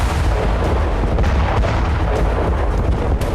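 Tank artillery fire during a ground assault in Khan Younis, Gaza, heard as a dense, continuous roar of booming blasts and rumble, loud throughout with no talking.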